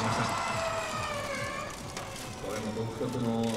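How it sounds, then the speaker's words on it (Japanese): Nissan Formula E electric race car on a demo run at a motor show, its motor giving a high whining tone that rises and shifts over crowd noise and a busy hall ambience, with an announcer's voice partly underneath. "これも独特のモーターの音ですよね。"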